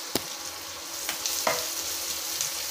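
Two whole green chilies hit hot oil in a pan while cooking chicken gravy, giving a steady soft sizzle with a few sharp clicks and pops, heard alone without talk.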